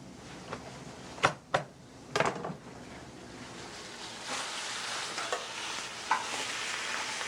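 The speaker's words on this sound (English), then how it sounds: "First we'll place meat side down into the pan and sear." Lobster meat searing meat side down in a pan with butter, a soft continuous sizzle with a few clanks and bumps of the pan early on.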